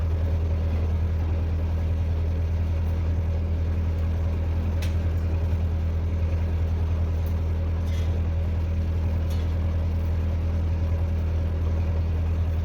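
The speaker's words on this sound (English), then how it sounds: "you hear that motor running in the background. That's my old SA200." An old Lincoln SA200 welder engine runs steadily in the background, a continuous low droning hum with no breaks, fairly loud and constant throughout, with a few faint clicks on top.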